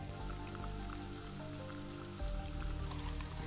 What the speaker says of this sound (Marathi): कारण पाऊस थांबलाच नाही हो.